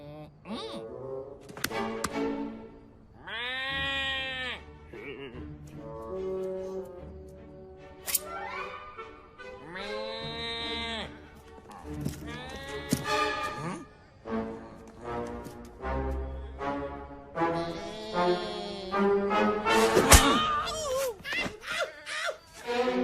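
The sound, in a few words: voices imitating goat bleating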